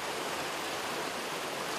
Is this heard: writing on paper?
no